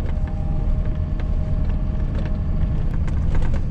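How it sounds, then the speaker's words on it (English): A truck laboring through deep snow on a farm, its engine a steady, loud low rumble with creaks and knocks from the body, heard close and continuous with no talking. "The truck's working a little bit to get through this snow."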